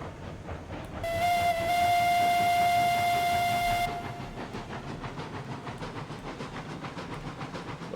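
Steam locomotive in the railroad game RailRoads Online, a loud sustained multi-tone whistle blast for about three seconds over a steady chuffing, rumbling run that continues after the whistle stops.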